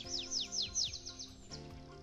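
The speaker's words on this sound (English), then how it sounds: "It's birds singing." Songbirds sing a quick run of bright descending whistled notes, about half a dozen in close succession, then one more after a brief pause, clear and fairly near.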